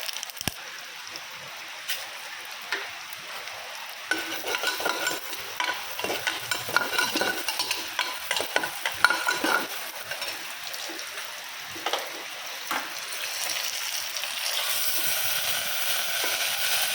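Food sizzling and frying in ghee in a home kitchen, a steady bright hiss with occasional stirring clinks and scrapes, close and alone with no voices, rising slightly toward the end.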